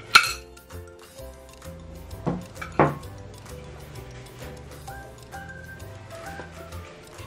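Ceramic plates, glassware and cutlery being set down for an American à la carte table setup, giving a few sharp clinks and knocks, close by over a quiet hum.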